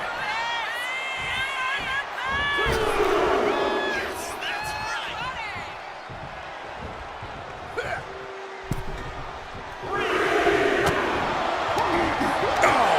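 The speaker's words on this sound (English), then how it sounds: "Jacob Fatu feeding off the crowd, feeding off their energy" A wrestling arena crowd at a televised WWE Raw event cheers and roars in sustained waves, with whoops and shouts rising loudly near the end, while commentators talk over the noise.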